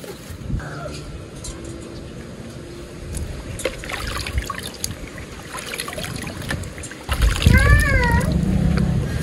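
Very hot tap water poured over pigeons, a running splash and trickle that swells louder near the end, with people talking throughout.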